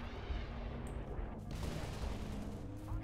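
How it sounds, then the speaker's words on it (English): Dense, continuous gunfire from the Halo: Reach video game campaign, with overlapping rapid shots and booming blasts filling the whole stretch at steady loudness. "Where the hell are they shooting at us from?"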